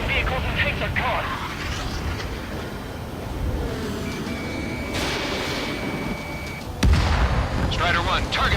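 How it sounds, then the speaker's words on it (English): Incoming fire and explosions in the Ace Combat 7 video game, dense rumbling blasts and gunfire under continuous radio-style talk, with a sharp heavy impact near the end. "We're taking fire."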